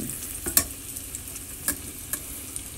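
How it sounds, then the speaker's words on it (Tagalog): Breaded pork cutlet deep-frying in hot oil, a constant close bubbling sizzle with a few sharp pops and light clinks of a utensil, no talking. "i-fry na natin to sa mainit na mantika"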